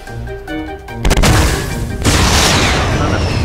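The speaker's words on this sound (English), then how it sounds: "someone's shooting at us, I think" Heavy gunfire and explosive blasts erupt in Fortnite's high-explosives mode, a dense burst of loud booms and rattling shots that builds into a continuous barrage.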